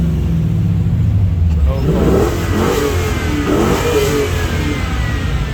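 Loud, throaty V8 engine of a Mopar RT muscle car revving at a car show, rising and falling pitch, close by, rumbling continuously throughout.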